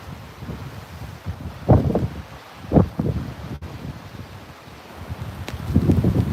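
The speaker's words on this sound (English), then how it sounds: "Definitely, I'm fighting wind now." Strong hurricane wind buffets a microphone outdoors in Fort Myers, irregular rumbling gusts swelling and easing, with no voice heard.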